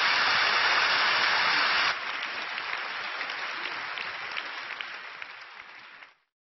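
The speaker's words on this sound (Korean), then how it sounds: "두 분 목사님 우리 나오실 때 큰 박수로 한번 축복해 주시고 환영해 주시기 바랍니다" Applause from a church congregation greets two pastors coming to the stage, loud and dense at first, then dropping abruptly to a softer, steady patter that fades out after about six seconds.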